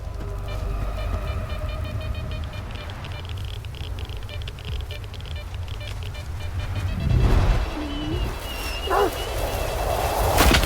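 Dogs bark out in the wasteland of STALKER 2: Heart of Chornobyl, a few rough yelps rising near the end over a low rumbling game ambience and hum.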